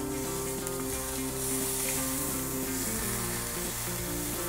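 Mackerel grilling over strong heat as its skin blisters, a steady close sizzle and crackle that holds level throughout, with a constant tonal hum beneath it and no talking.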